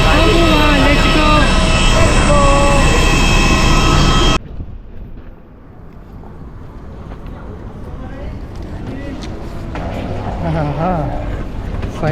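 A loud, steady airplane cabin roar fills the first four seconds of a flight to Vietnam, then cuts abruptly to a quieter, busier background with voices.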